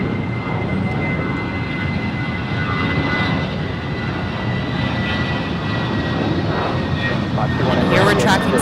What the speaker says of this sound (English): Here we're tracking Spirit 816 off to MCI, Kansas City. It's a 9-year-old A320.